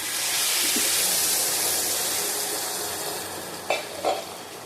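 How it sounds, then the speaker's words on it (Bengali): Water poured into a hot pan of potato curry sets off a loud, steady sizzle and hiss that slowly eases, followed by two brief clinks of a utensil near the end. "জল দিয়ে দেবো, জল দিয়ে দিলাম পরিমাণ মতো"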